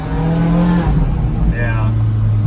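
A tuned McLaren 570 engine revs and drops through a downshift, a loud, close rising-and-falling roar that runs the whole time, mixed with people's voices.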